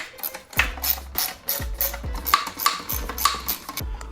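Bolts being loosened with a 3 mm Allen key and a 1/4 driver on an Emoto Ultra Bee brake assembly: a series of sharp metallic ratcheting clicks in a steady rhythm, close and fairly quiet, no talking.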